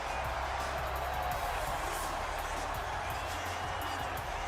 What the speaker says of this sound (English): the crowd is hyping this man up